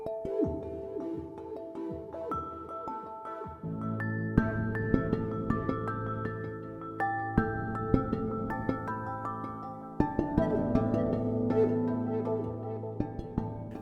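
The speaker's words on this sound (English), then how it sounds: "I used a lot of kind of wine glasses and glass sounds" Bell-like tuned tones from wine glasses and struck glass, played as melodic music in place of celeste or marimba, with sustained ringing notes over a steady low pulse, no voices.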